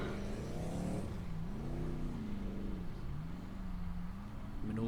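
Off-road racing truck at an Icelandic Formula Offroad event heading into a swamp, its engine droning and revving unevenly at a moderate distance with the pitch wavering up and down as it labors through mud.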